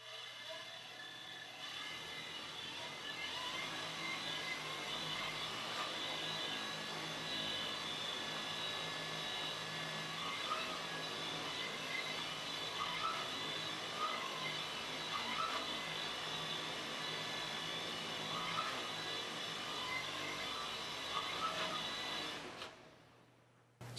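Tricopter propellers spinning under throttle during a bench test after its flight controller setup, a steady close high-pitched motor whine with a buzzing hum that runs continuously and cuts off at the end.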